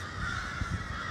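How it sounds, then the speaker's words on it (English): Crows in downtown trees caw repeatedly, harsh calls layered over a steady droning background hum, moderately loud and without any talking. "crows are constantly covering downtown trees"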